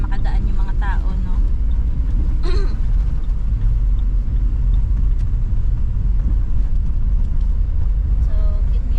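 Cars roll slowly along a snowy road after the first snowfall in Canada, a constant loud low rumble of engines and tires close by, with someone talking over it throughout.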